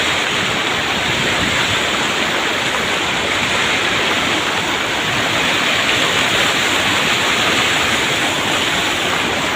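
Steady, full-bodied roar of a waterfall, loud and close throughout, a dense continuous rush of falling water with no other sounds standing out.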